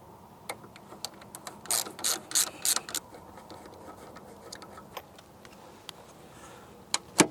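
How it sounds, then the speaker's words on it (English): Tail light screws come out of a Jeep JK with a quick run of ratcheting clicks, then sparse light taps and tool handling nearby at low level. "So in order to remove the taillight, all I have to do is remove these 2 inside screws."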